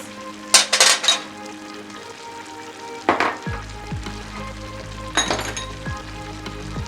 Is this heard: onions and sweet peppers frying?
yes